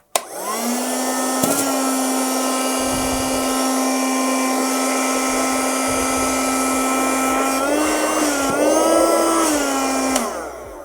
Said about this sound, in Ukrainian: Вмикаємо пилосос.